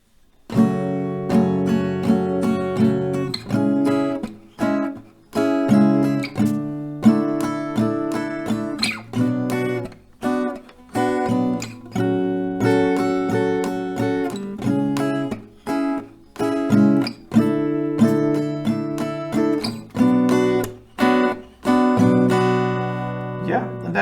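Acoustic guitar strumming the chords of a song in a slow down-up pattern, with bright, ringing strums and brief pauses between phrases.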